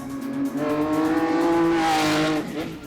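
A Lamborghini sports car engine revs hard in a rising, howling crescendo, the pitch climbing steadily over a couple of seconds before easing off, loud and close, with no talking.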